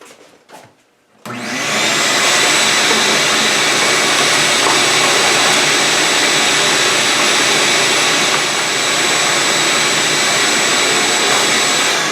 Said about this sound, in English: I do want to suck up some of this dust